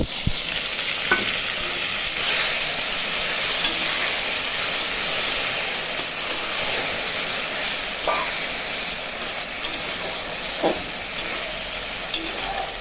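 Green chilli paste sizzling with eggplant in hot oil in a pan for hilsa fish curry, a loud, steady frying hiss with occasional scrapes of a spatula stirring.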